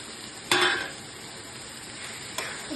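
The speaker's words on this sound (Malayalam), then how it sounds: "നന്നായിട്ട് ഇളക്കി കൊടുക്കാം." Grated coconut being stirred into a dish in a pan for a Kozhikode-style lunch, two short scraping stirs about two seconds apart, close and fairly quiet, with no talk.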